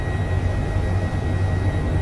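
An Airbus H145 helicopter in Microsoft Flight Simulator, flying over hilly Lake District country, gives a steady loud engine drone with a low rotor hum and a thin high whine, constant throughout with no talk.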